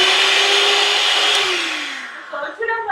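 Electric hand mixer whirring steadily as it beats cake batter at home, a continuous motor drone that fades toward the end as a few voice-like tones come in.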